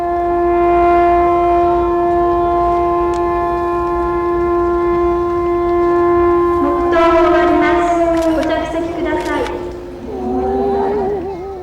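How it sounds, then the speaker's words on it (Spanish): A long, steady commemoration siren wails at Nagasaki, holding one sustained tone for several seconds before wavering and fading, with background voices and other noise rising near the end. "A las 11:02, una sirena suena y un minuto de silencio rememora la explosión."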